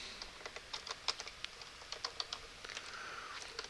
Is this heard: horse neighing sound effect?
no